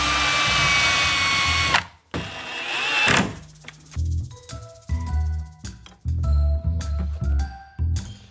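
Cordless screwdriver driving screws into kitchen cabinet carcasses during assembly, heard as several short, loud whirring bursts with brief pauses between, following a stretch of louder mechanical noise at the start.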